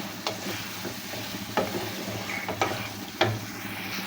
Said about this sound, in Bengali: এখন মশলার সাথে খুব ভালোভাবে নেড়ে চেড়ে এভাবে মাছগুলো আমি কষিয়ে নিচ্ছি